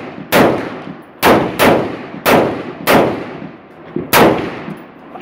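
Five loud, sharp gunshots at a shooting range, fired singly at uneven intervals, each with a brief ringing decay and no talking between them.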